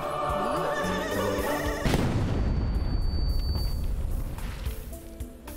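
A holy hand grenade in a Worms game goes off in a loud, booming blast that swells suddenly midway and then rumbles and decays over a few seconds, with game sounds and no talking.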